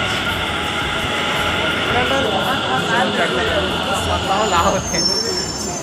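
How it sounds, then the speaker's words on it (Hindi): Steady loud rumble and hiss of a metro train in a station in India, with people talking over the continuous mechanical din. "ये देख मेट्रो आगे"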